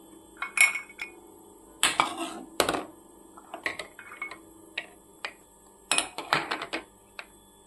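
Cups being scrubbed clean with a cloth ring out in close, sharp clinks and clatters, coming in irregular clusters with quiet gaps between them.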